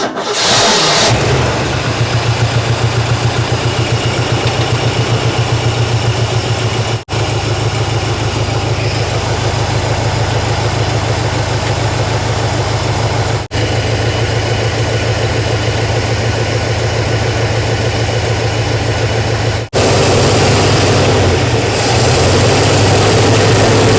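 A one-owner 1970 Ford engine, parked for 22 years, cranks and catches, then settles into a loud, steady idle with a low rumble that runs without a break, with brief dips in between.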